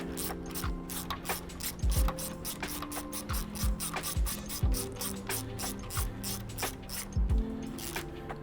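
A ratchet tightens the bracket bolt on a GSXR motorcycle's front brake line, making rapid, close, rhythmic clicking in quick repeated strokes with short pauses between them.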